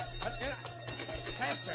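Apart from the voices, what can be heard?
alarm bell ringing in radio drama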